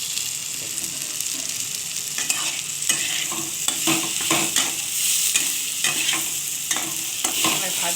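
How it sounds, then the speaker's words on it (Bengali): Bitter gourd and pumpkin frying with nigella seeds in a pan: a constant close sizzle under repeated scraping stirs and crisp crackles, fairly loud and steady, without speech. "দেখুন উচ্ছে আর কুমড়ো কালো জিরে দিয়ে ভাজা"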